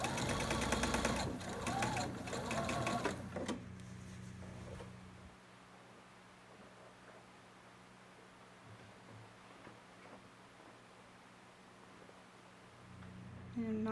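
Domestic sewing machine stitching fabric in a loud, steady mechanical whir for the first few seconds, then stopping, leaving quiet handling and rustling of cloth with a low background hum.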